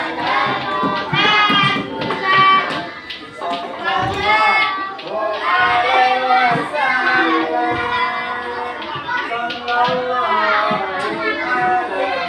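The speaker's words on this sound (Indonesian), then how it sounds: "Kita tepuk tangan." In a school classroom, a crowd of children claps rhythmically in unison amid lively voices and chanting, loud and close throughout.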